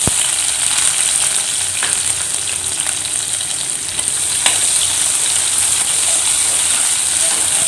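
Mustard seeds crackle and splutter in hot oil while yam fry is being cooked, a steady bright sizzle with scattered sharp pops throughout.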